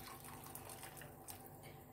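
Hot water pours steadily from a glass over a spoonful each of dissolved pepper paste and tomato paste for an oven-baked eggplant dish, a continuous close splashing fill with no talk.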